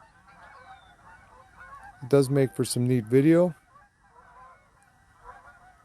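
Geese honk outdoors in a loud burst of several overlapping calls for about a second and a half, with quieter distant honks and a voice talking faintly before and after.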